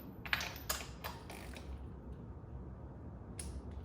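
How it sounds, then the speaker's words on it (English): A torque wrench tightening cylinder head studs on an engine gives a few quick faint ratcheting clicks early on, then near-silence and one last click. "we're going to go back and torque cylinder 1 more time"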